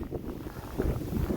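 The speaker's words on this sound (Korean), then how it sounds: "바람 소리." Cold winter wind on a dark predawn street during a severe cold snap, a brief low buffeting rush that gusts against the microphone, loud and alone.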